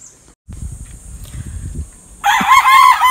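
Young roosters, three to four months old, in a backyard farm: low rustling and thumps give way to a loud, bright crow close by that fills the final second.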